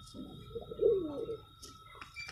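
Racing pigeon cooing close by in a soft, rolling burst that swells in the middle, with faint chirps afterward; no one talks.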